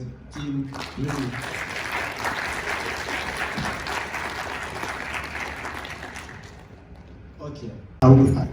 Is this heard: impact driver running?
no